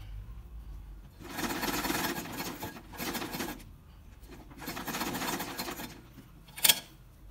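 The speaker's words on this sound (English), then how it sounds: "Just going to place it on this corner like that. And sew." Sewing machine stitching fabric for a T-parted 2 by 6 hair closure, a whirring motor hum in several bursts of a second or two, starting and stopping as the pedal is pressed, close by with no talk.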